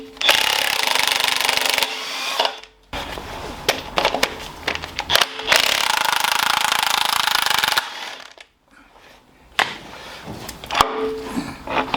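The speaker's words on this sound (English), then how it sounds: "let's get a socket and undo them and we'll drop that off" Work on a Cummins NH220 engine brings bursts of loud, rapid mechanical rattling, like a tool undoing bolts, running in several long stretches split by short pauses.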